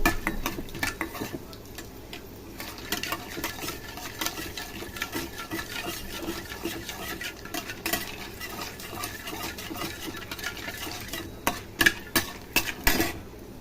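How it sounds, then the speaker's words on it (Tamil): Dried turkey berries (sundakkai vathal) are sautéed in oil, with a quiet sizzle beneath rapid, irregular scraping and rattling of a ladle against the pan, growing busier toward the end. "சுண்டக்காவத்தில் எண்ணெயில் போட்டு வதக்கி கொஞ்சம் எடுத்துக்கோங்க கோட் பண்ணி வதக்குங்க"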